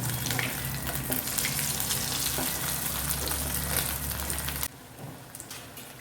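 Green pea cutlets shallow-frying in a pan, a dense, steady hiss of bubbling oil close up that drops abruptly to a quieter background near the end; no talking.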